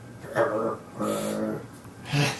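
A large dog whimpers and growls in three drawn-out, strained bursts, close and fairly loud, with brief pauses between them.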